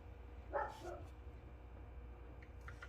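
A pug barks a couple of times in the background, faint and somewhat distant, over a low steady rumble of background noise.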